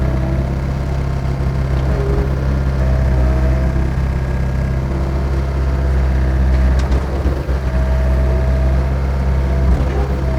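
Volvo EC55C mini excavator engine running steadily as the machine swings under load, a constant low diesel drone with a faint mechanical whine and a few brief clicks, heard alone.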